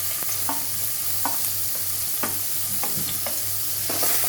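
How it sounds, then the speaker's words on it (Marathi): Chopped onion and tomato hit hot oil in a pan for Malvani-style stuffed brinjal masala, producing a loud, steady frying sizzle close by. Repeated scrapes and clinks from stirring recur about every half second to second, with no voices. "तेल छानपैकी तापलंय आपलं, त्यामध्ये मी हा कांदा आणि टोमॅटो घालून घेते"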